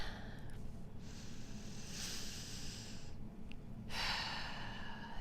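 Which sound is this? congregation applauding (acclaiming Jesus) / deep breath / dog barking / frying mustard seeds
deep breath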